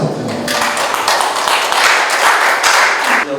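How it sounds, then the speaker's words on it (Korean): Audience at an art exhibition opening applauds steadily for about three seconds, a dense patter of hand claps filling the room at moderate loudness with no clear voices over it. "박수 부탁드립니다."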